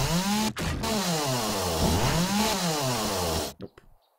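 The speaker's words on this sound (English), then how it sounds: "I might even leave my regular tools to have a chainsaw" A chainsaw in the 7 Days to Die video game roars loud and close, its engine pitch rising and falling as it revs and cuts, then cuts out abruptly near the end.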